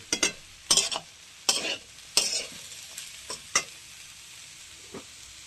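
Ghee goes into a hot pan of banana-flower curry with garam masala, setting off several short sizzling bursts at irregular intervals, with quieter hissing and stirring between them.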